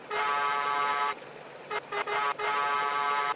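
Truck horn on a Freightliner Cascadia in True Simulator USA honks loudly in a long blast, breaks into two short toots, then sounds another sustained blast, with no talk.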